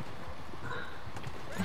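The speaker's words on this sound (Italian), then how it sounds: "E poi si è impennato il cavallo." A horse in Red Dead Redemption 2 Online rears up, with soft hoof clip-clops and a faint whinny under a busy game soundscape.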